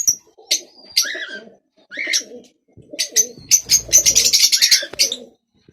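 Pigeons coo close by in repeated soft throaty calls, with a burst of overlapping chirps and cooing toward the end.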